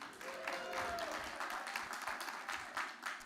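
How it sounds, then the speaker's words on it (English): Audience at a comedy bootcamp graduation show applauding a stand-up comedian, a steady, fairly distant ripple of clapping across the room, with faint voices mixed in. "none of those claps should be for me."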